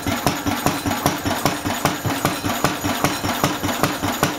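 A Lister D stationary engine runs while still cold, thumping out a fast, steady, evenly spaced beat of loud, close firing pulses with a mechanical clatter over each stroke.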